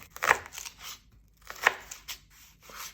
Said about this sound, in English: you can actually first cut this in half and then cut it into matchstick strips.